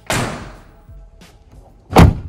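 Two truck doors shut in turn, a 1985 Toyota Pickup and a 2020 Toyota Tacoma TRD Off Road: a sharp, loud slam with a ringing tail, a faint knock, then a heavier, deeper thud a beat later.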